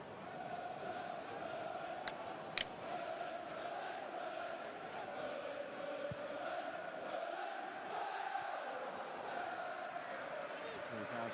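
Leeds United supporters at an away football match on Boxing Day against Nottingham Forest, a steady crowd roar and murmur filling the stadium throughout, with a couple of sharp whistles or shouts standing out early on.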